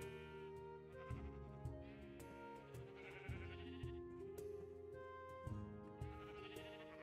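Sheep bleat repeatedly in a farm pen, several overlapping calls at close range, with no talking.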